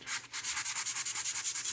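A sanding pad scrubs a sword blade in quick back-and-forth strokes, a close, rhythmic rasping with no voices.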